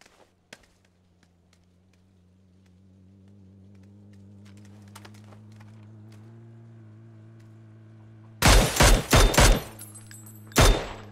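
Burst of gunfire in PUBG, a sudden cluster of loud cracks arriving after a quiet stretch of low engine-like hum, with one more shot a moment later.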